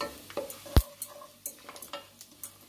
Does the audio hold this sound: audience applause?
no